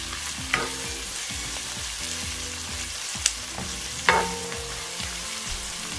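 Garlic, onion and tomato sauté in a pan, a continuous crackling sizzle with a few sharp clinks of a utensil stirring against the metal, close and steady with no talk.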